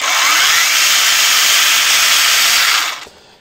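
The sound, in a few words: one-handed cordless chainsaw running at full power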